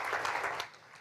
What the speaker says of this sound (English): A round of applause for Team Chris Crow.